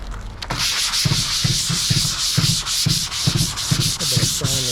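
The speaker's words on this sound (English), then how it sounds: "I'm going to do a little bit of sanding" Steady rhythmic scratching of sandpaper rubbed by hand back and forth over wooden furniture, close and continuous, with repeated short strokes.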